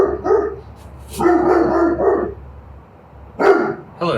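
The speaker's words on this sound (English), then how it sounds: "hello neighbor dog" Neighbor's dog barking, a close, loud series of repeated barks in quick bursts with a short pause before a final pair.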